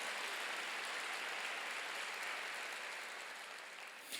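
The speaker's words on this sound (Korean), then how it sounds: "이해간 사람만 박수 치세요" A church congregation claps together during a sermon, a sustained wash of applause at moderate distance that thins slightly toward the end.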